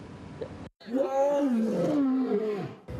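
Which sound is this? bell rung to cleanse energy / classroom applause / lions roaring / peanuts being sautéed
lions roaring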